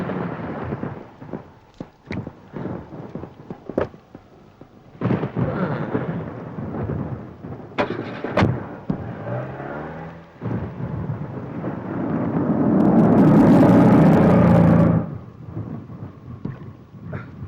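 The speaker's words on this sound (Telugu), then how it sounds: "చాలా పెద్ద తుఫాన్ అటు సార్" A heavy storm with thunder and rain: several sharp cracks and rumbles of thunder over steady rain, building to a loud, long roar near the end before easing off.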